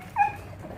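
A dog gives one short, high whimper during play, close and brief over a soft background.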